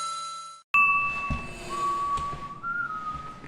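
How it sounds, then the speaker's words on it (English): A clear, sustained melodic whistle from the video game Resident Evil 6 holds long steady notes and shifts pitch near the end, set against a soft electronic backdrop with a few dings. "Why the hell is whistling a sin?"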